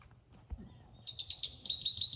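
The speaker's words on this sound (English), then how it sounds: "American goldfinch. Yes, we have goldfinches here." An American goldfinch's high, sweet chirps repeat in quick succession, growing louder and busier toward the end, with no voices.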